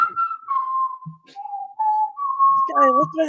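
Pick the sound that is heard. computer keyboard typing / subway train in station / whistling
whistling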